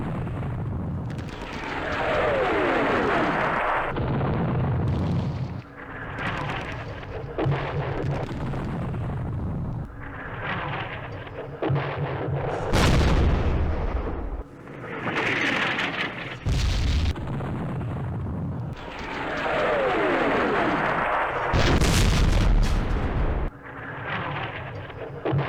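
Artillery fire from the Vietnam war game Campaign Series Vietnam: repeated booming explosions and blasts rise and fall in waves over a continuous rumbling battle bed, loud and close, with no voices.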